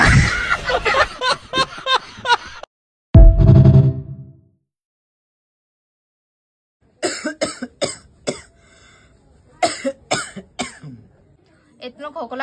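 A person coughs heavily in repeated harsh bursts at close range, with a rough throat-clearing sound among them, separated by pauses and mixed with bits of talk.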